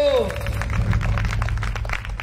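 A church congregation claps during a Telugu sermon, a dense burst of applause following the preacher's voice, which is heard at the start.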